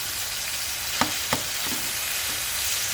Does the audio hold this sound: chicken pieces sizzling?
yes